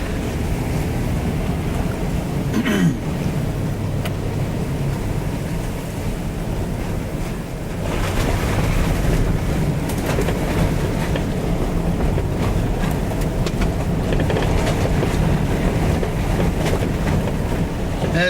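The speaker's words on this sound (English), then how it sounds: "Water going over the top. Lots of water in the bush from the rain. Water's flowing actually quite quickly." Rainwater runoff pouring over a frozen culvert in spring bush, a steady broadband rush of flowing water mixed with wind, continuous and moderately loud, no talk.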